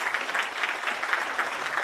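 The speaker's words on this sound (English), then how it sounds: "please, a round of applause to the four." Audience at a celebration of America's 250th breaking into steady, moderately loud applause, many hands clapping in a continuous wash with no voices standing out.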